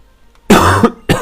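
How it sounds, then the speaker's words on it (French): A single harsh cough bursts out close and loud after a brief quiet, followed by the start of a second cough. "Pardon, je tousse."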